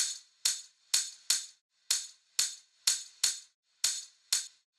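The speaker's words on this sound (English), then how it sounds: "So the tambourine sounds like this" Bright, crisp tambourine hits in a syncopated, repeating Afro house groove, each strike shimmering briefly before decaying, about ten hits in a steady loop with nothing else playing.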